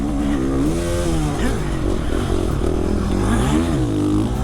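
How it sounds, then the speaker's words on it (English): A two-stroke 85cc motocross bike races around a track, its engine a loud, continuous buzzing drone whose pitch rises and falls as the throttle changes. "Oh, I can hear that two-stroke."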